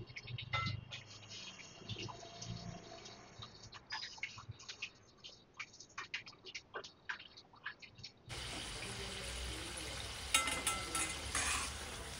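Coated eggs fry in oil with soft, intermittent crackles and stirring taps, then a denser, steadier sizzle takes over for the last few seconds; faint overall.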